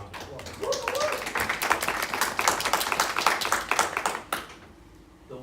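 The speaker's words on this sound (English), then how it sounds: "We can give a round of applause" Scattered audience clapping during a work session meeting in an office setting, a modest group of hands tapping out irregular claps that swell briefly then thin out, with speech faintly present.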